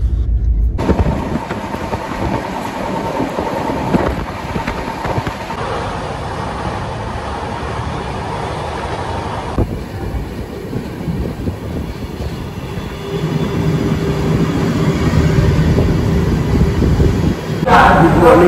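Express train running on rails near Durgapur, West Bengal, a steady loud rumble with rolling rail noise and rattling throughout, swelling slightly toward the end.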